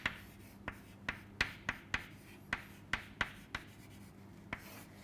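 Chalk tapping and scratching on a blackboard while a diagram is drawn, about a dozen sharp, close strokes in an uneven rhythm over a low steady hum, with no talking.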